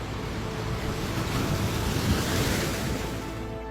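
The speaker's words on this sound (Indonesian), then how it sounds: "dikelilingi oleh ombak yang tak henti-hentinya bergulung" Ocean waves rolling around Masalembu island, a dense, steady wash of surf with wind noise, loud and unbroken throughout.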